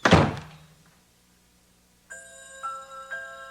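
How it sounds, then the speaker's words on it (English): A door slammed shut as a sound effect in a spooky story: one loud, heavy thunk at the start that quickly dies away, followed by a pause and then a ringing chime-like tone. "The scream faded away as Janine slammed the door."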